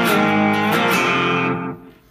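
Cigar box guitar riff, picked with alternating up and down strokes; loud and close, a quick run of notes that rings out and fades over the last half second.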